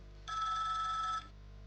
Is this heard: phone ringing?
yes